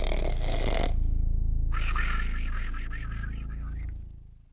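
A voice imitates an ogre snoring in a fairy tale, with two long, deep, rumbling snores. The second snore fades out at the end.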